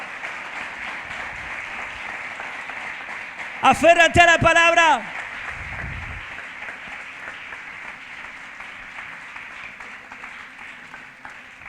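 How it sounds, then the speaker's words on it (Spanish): A church congregation applauds with steady, rolling clapping that runs throughout, while a voice briefly speaks loudly over it in the middle. "Denle un fuerte aplauso al Señor."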